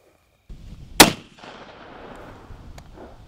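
A shotgun firing a slug outdoors, one loud close blast with a brief echoing tail after a moment of shuffling.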